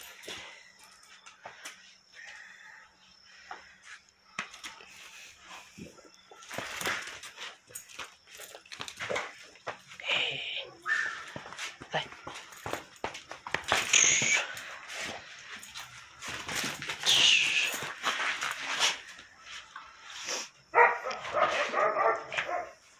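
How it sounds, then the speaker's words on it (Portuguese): Dogs that are scared of fireworks bark and yip intermittently, with some whimpering, at moderate distance over a restless background. "Tem uns cachorros ali que não são muito acostumados ainda."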